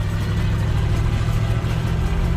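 A 1969 Buick Skylark engine idling after braking at a stop sign, a loud, deep, steady rumble with slight uneven pulsing, heard close with no talking.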